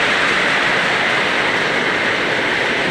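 Sudden rain pours down outdoors as a dense, steady rushing hiss. It is loud and unbroken, with no voices.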